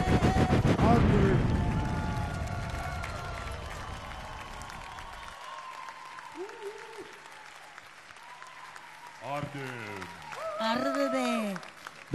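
An audience at X Factor Romania applauds loudly at first, then the clapping fades as a host speaks and music plays.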